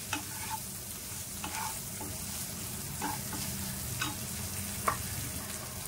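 Green chillies, garlic and a pinch of asafoetida fry gently in a pan over a low flame for thecha, a steady soft sizzle with periodic scraping stirs and light utensil clicks up close.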